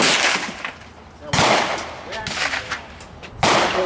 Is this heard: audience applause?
no